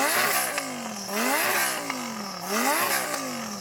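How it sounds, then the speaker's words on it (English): A Lamborghini Huracan's exhaust revs repeatedly, three rising and falling blips of loud engine roar heard up close, with no talk over them. "So I'm going to get Jürgen to rev up his Lambo."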